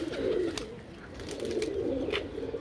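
Pigeons cooing in a loft, a steady low rolling coo continuing throughout at moderate volume, with a few faint higher bird chirps scattered over it.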